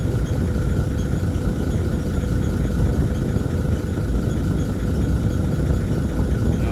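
A Land Cruiser 80 series runs steadily with its air-conditioning compressor engaged, a constant close engine drone with a faint whine on top and no talking.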